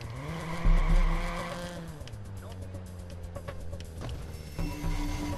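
Car engine in the Watch Dogs video game, rumbling steadily with a brief tire squeal near the start and a harsher burst toward the end, heard close and fairly loud under game sounds.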